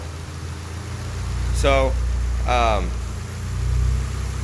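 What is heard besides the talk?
car engine idling roughly due to vacuum leak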